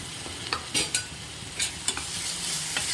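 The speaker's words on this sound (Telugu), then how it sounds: "గోల్డెన్ బ్రౌన్ కలర్ వచ్చేదాకా ఫ్రై చేసుకోవాలి" Onions and two tablespoons of ginger garlic paste fry for a drumstick curry, with a soft steady sizzle broken by several sharp scraping stirs of a spoon against the pan. No speech is present.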